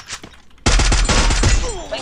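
Gunfire in a shooting video game scoring headshots: a sudden loud burst of rapid shots cracks in after a brief quieter moment and rattles on close for over a second.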